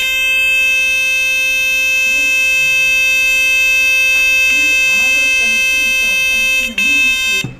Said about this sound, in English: You can hear the frequency of 528Hz sound.